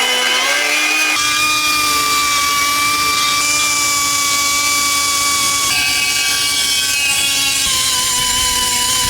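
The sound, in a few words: power drill drilling a hole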